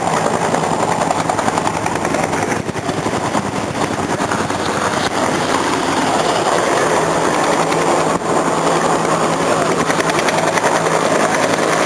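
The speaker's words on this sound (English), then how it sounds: "along with the continued overhead cover of the UH-60 gunner aircraft" A UH-60 helicopter flies overhead at a National Guard combined arms demonstration, its rotor and turbine roar loud and continuous, with a dense chopping texture throughout.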